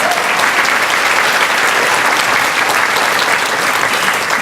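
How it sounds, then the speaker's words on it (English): An audience at a 4-H House 80th anniversary celebration gives a steady, dense round of applause that carries on unbroken at full strength, with no speech over it. "Let's give them a round of applause."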